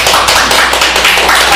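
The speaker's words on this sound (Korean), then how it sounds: "우리 햇빛 스님에게 우리 배우시는 분들이 정말로 큰 박수 한번 쳐주시기 바랍니다" An audience at an evening Buddhist dharma lecture gives a monk a big round of applause, a dense, steady patter of many hands filling the whole short moment up close.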